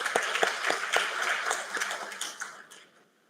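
Audience applause for parents at a BTech orientation programme, with distinct individual claps over a softer mass of clapping that gradually fades out to silence.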